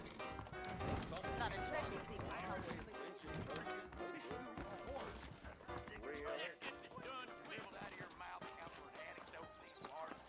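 Horse hooves clip-clop under a busy, layered soundscape in the video game Red Dead Redemption, with a horse neighing, while a voice talks over the scene throughout.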